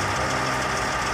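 A heavy equipment diesel engine at low idle around 700 RPM, with a hydraulic pilot oil pressure fault, gives a steady, close rumbling drone with faint knocking texture, no voices.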